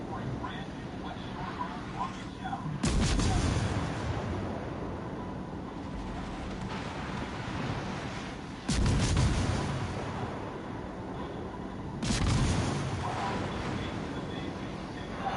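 Bursts of rapid gunfire in a PS4 game come as three loud, broad blasts several seconds apart, each fading out, over steady game background noise.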